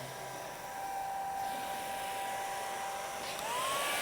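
A hair dryer blows steadily to dry watercolour paint during a live art demonstration, a continuous close whirring hiss with a thin whine that holds level for about four seconds.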